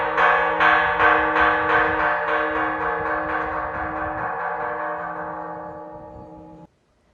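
A temple bell at Seonamsa temple rings out once, its rich, humming tone slowly fading over about six seconds before stopping abruptly, heard alone without voices.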